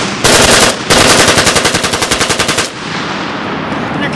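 A full-auto 7.62 Krink rifle empties a 230-round drum in one sustained burst, loud and close, the rapid shots running together for over two seconds before cutting off into ringing outdoor ambience.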